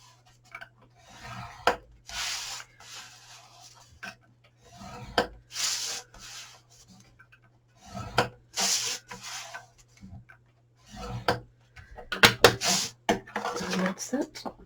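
Paperboard for a Christmas gift box lid is scored at one-inch lines, giving short scraping and rubbing strokes in separate bursts with quiet gaps, close and fairly loud, while a person talks between strokes.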